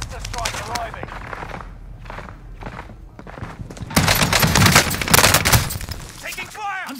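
Gunfire and crashing impacts in Call of Duty Warzone, sporadic at first then a loud, dense volley in the middle, mixed with radio-style voice callouts.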